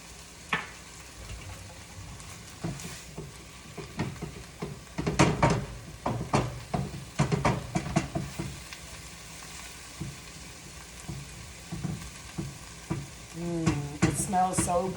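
Shrimp and spinach with curry seasoning cook in a pan, giving a continuous close sizzle broken by frequent stirring scrapes and utensil clicks; brief speech sounds appear at the end.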